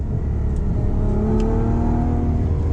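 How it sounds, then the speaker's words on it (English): A Ferrari FF with a 6.3-litre V12 pulls hard under acceleration, its deep droning engine note climbing steadily in pitch as revs rise, loud and close from inside the cabin, with no talking. "I wanna do a little acceleration here"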